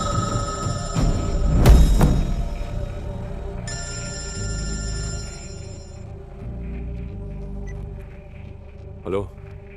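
A telephone rings in a scene from the film Crew, its repeated electronic bell tones running clearly for several seconds over a low rumble and background voices.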